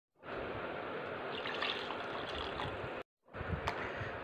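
Water is poured into chutney being prepared in a home kitchen, a steady splashing trickle lasting a few seconds that stops abruptly, then resumes briefly.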